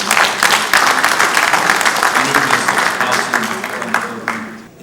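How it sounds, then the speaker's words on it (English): Loud, close audience applause rings out at a government launch of the Lagos digital addressing system, a thick burst of clapping that stays strong and then tapers slightly toward the end. "Let's give another round of applause."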